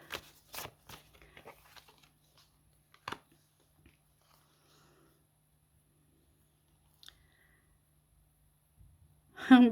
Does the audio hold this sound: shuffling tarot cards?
yes